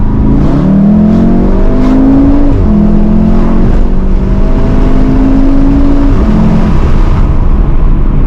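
A 310 hp 7R sports car accelerates hard to overtake another car on the road, its engine loud and close, revving up through rising pitch sweeps with brief dips at gear changes across the whole run.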